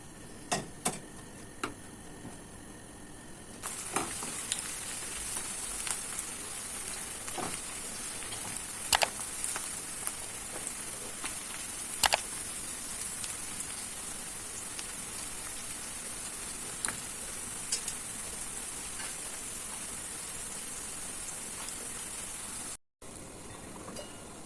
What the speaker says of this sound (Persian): برای درون آش 2 عدد پیاز درشت و خلال درشت زدم، پیاز داغ میگیرم باهاش